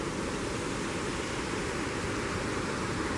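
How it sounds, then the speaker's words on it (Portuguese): The Ribeirão Muzambo stream runs steadily near Lake Furnas in low-water conditions, a constant broadband rush of flowing water heard close and fairly loud, unbroken and without voices. "só o Ribeirão Muzambo correndo aqui."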